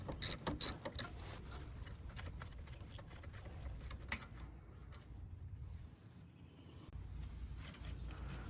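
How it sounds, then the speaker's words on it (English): Ratcheting clicks from a socket wrench loosening rear brake caliper bolts on a 2018 Toyota RAV4 XLE, quick bursts of clicks at first, then quieter fiddling and faint background sounds. "using a 40mm socket or wrench, remove the caliper bolts."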